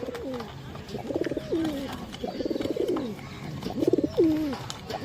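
Domestic pigeons kept at home coo repeatedly at close range, several rolling, wavering calls in an uneven rhythm over a quiet background.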